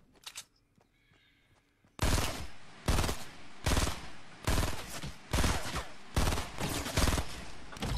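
Fortnite video game gunfire: after a quiet opening, a loud series of about seven rapid automatic bursts follows in quick succession, each a sharp, dense crackle with brief gaps between.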